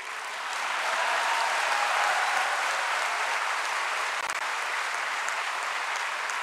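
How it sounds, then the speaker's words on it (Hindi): Dense, steady applause from a large audience at PM Modi's speech inaugurating ICSI's Golden Jubilee Year celebrations, swelling in within the first second and holding at an even, loud level throughout. "तालियां कम हो गई।"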